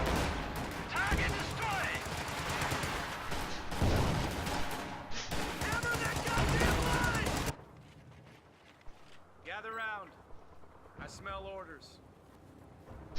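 Explosions and gunfire in the Company of Heroes 2 video game on a mined battlefield, a dense, loud roar of blasts and shooting that cuts off abruptly, leaving quieter game sounds and a voice speaking.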